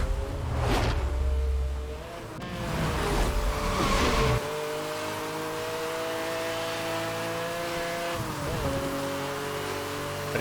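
A car engine revs and accelerates while driving in Need for Speed: Hot Pursuit (2010), with rising and falling pitch sweeps, whooshing passes and a steadier drone later, loud and close with no talk over it.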